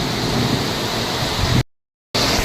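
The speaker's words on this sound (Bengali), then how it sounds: "ঝমঝম করে বৃষ্টি আসছে।" Heavy rain pouring steadily during a thunderstorm in Chennai, a dense, loud, continuous hiss that cuts out abruptly for a moment before resuming.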